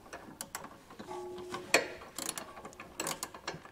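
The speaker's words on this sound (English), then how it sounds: "a ratcheting 19 wrench is probably gonna be the best option for this" A ratcheting 19 mm wrench works hitch bolts on a trailer hitch receiver under a 2022 Toyota RAV4, giving quiet, irregular clicks and metallic ticks with one sharper clank partway through, close up.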